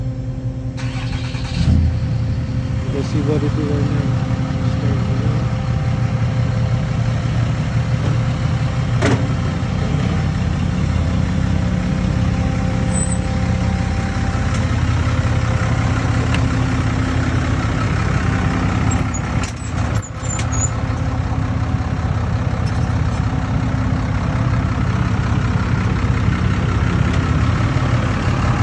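A broken-down dually truck's engine turns over and settles into a steady, close idle with a low, rumbling drone that runs unbroken for nearly half a minute, while someone speaks once briefly over it.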